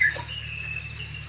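A young oriental magpie-robin gives a short, thin, high call from fairly close, a brief chirp over a faint steady background hum.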